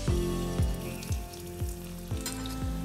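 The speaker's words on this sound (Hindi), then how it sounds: "घी गर्म हो चुका है। अब मैं डाल रही हूँ इसके अंदर 2 सूखी लाल मिर्चें और साथ ही में डाल दूंगी मैं इसके अंदर लहसुन।" Sliced garlic and two dried red chillies sizzle and crackle steadily in hot desi ghee for palak paneer, a loud continuous fry with repeated low thumps of a spoon stirring the pan, no voices.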